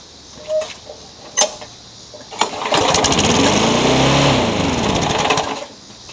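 A salvaged small spare engine, a lawn-mower type, starts up after a few clicks and knocks and runs steadily at a high, racing speed for several seconds before cutting off, loud and close.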